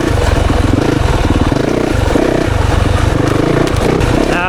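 A 2024 Yamaha YZ 450FX dirt bike engine blats loudly on a woods ride, holding a throaty, pulsing roar with rhythmic throttle surges close by and no talking over it.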